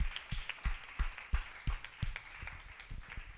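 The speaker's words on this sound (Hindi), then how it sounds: "अरे ताली तो बजाओ इस बात के लिए।" Scattered, uneven hand claps from a congregation at a Hindi Christian sermon, sharp individual slaps rather than steady applause, fairly close and moderately loud in a reverberant hall.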